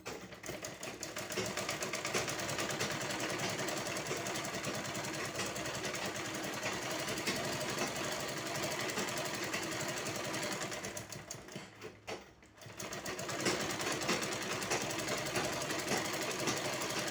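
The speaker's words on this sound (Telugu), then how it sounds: "ఇక్కడి నుంచి అయితే కుట్టేసుకుందాం." A sewing machine stitches old T-shirt fabric in a steady, continuous motorized whir that runs nearly nonstop, with a brief pause near the end before resuming.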